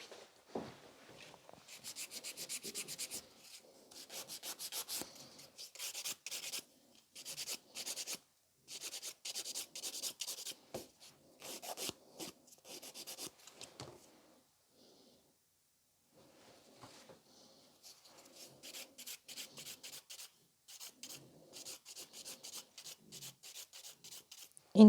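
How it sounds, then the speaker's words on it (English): Buffing a sculpted fiber gel nail extension with a nail buffer, heard as close, rapid scratchy rubbing strokes in bursts with short pauses, quieter stretches in the middle and steadier strokes toward the end. "Okay, my thumb is ready for a buffing."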